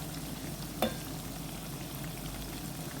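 Eggplant omelette fries in plenty of oil, giving a steady, faint bubbling sizzle throughout with one brief louder clatter near the start.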